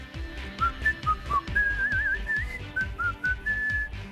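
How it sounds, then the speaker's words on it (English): A person whistles a wavering, meandering tune up close, each note clear and fairly loud over a repeating low rhythmic backing, without any talking. "apparently it bothers a lot of people when people whistle"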